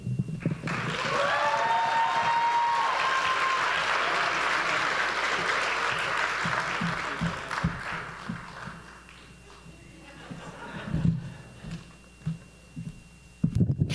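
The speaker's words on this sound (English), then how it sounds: "Y'all can keep clapping if you want to." Audience applause at a high school FCA comedy night, a loud sustained crowd clapping that swells early, holds steady, then thins out into scattered claps, with a few whoops and cheers near the start.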